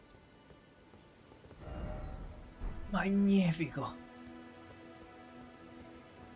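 Steady rain falling in the video game Elden Ring, a soft continuous hiss running through the clip while someone speaks briefly and in-game sounds swell in the middle.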